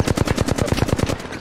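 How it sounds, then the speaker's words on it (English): Rapid automatic gunfire in Apex Legends, a loud, close burst of evenly spaced shots lasting over a second with no pause. "Getting sniped right here."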